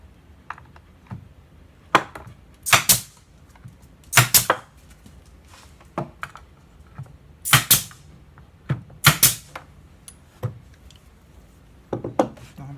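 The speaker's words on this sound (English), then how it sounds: "I can go ahead and shoot in these slats." A nail gun drives wooden slats into a bath vanity build, giving sharp, loud pneumatic bangs in pairs and singles at irregular intervals, with softer knocks of wood being positioned between shots.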